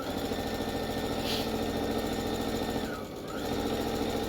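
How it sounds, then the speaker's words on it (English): A sewing machine stitches pairs of patchwork quilt block pieces with a continuous close mechanical whir and rattle, briefly dipping near the end before resuming, with no talking. "All I've done is just sewn those pairs together."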